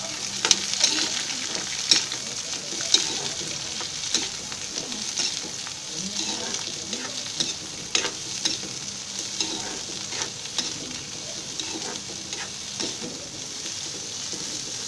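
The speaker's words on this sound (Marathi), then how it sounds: "हे चांगलं लाल होईपर्यंत भाजायचं आहे" Ginger and garlic roasting in a pan, stirred now and then, with a steady close sizzle broken by scraping clicks; a faint bird coo sounds in the background.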